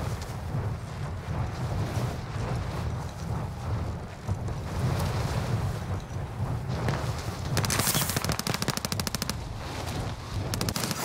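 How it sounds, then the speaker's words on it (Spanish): Dense gunfire from the online shooter Call of Duty Warzone rattles on for the whole stretch, with rapid automatic bursts layered over a constant loud rumble and a sharper, fast volley near the end. "Disparando la gente."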